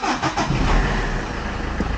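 A Citroën Xantia 2.0 HDi diesel engine with a faulty fuel pressure regulator revs loudly close by, roaring up past 3000 rpm and holding at a high pitch, with no voices.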